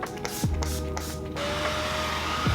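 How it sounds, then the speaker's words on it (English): Several quick hissing bursts of makeup setting spray from a bottle, close by, in rapid succession, followed by quieter background. "I'm just gonna spray the Skindinavia spray again"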